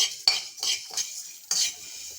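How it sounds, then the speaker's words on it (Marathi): Coriander seeds dry-roasting in a pan are stirred with a metal spoon, giving sharp scraping clinks and rattles in a few separate close strokes over quiet. "आता आपण धने भाजून घेऊयात"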